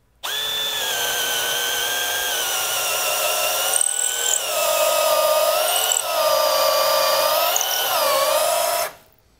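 A Milwaukee M12 FUEL cordless drill/driver with a modest-sized bit whines steadily as it bores into wood for several seconds, close and loud, its pitch dipping briefly under load before it stops.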